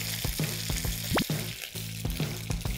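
Half-cooked golden oysters pan-frying in hot oil, a close continuous sizzle broken by repeated sharp pops and spatters, with one rising squeak partway through.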